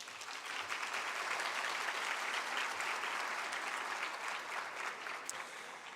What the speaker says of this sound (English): All of you guys, give them a round of applause.